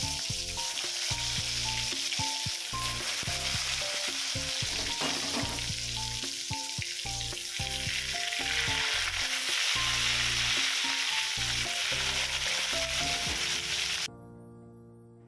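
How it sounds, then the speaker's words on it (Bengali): Eggplant slices frying in hot oil in a pan, a steady loud sizzle running throughout that drops away abruptly near the end. "তেল গরম হলে দিয়ে দিলাম একে একে বেগুনগুলো ভেজে নেব।"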